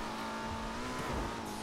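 An Audi RS3 accelerates in the video game GTA V, its engine note a steady, fairly quiet drone mixed with road and game background sound, with no talk over it.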